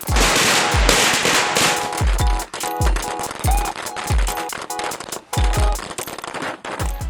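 Rapid strings of red firecrackers crackle and pop loudly and continuously, with sharp bangs punctuating the steady rattling barrage.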